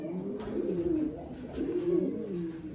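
A pair of Hyderabadi Neela pigeons, active birds, give soft repeated coos in two low, murmuring bursts, close by and fairly quiet, with no talking.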